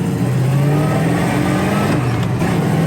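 A 1966 Chevelle SS Convertible runs loud and close, its engine holding a smooth, steady roar that rises slightly as it pulls, with no talking over it.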